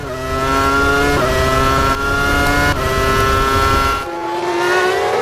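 Formula 1 cars from the 2001 season scream past at full throttle after the safety car pulls in, with loud, continuous high-revving engines and audible gear shifts as the pitch climbs and drops.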